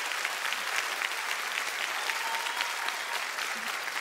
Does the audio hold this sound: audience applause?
yes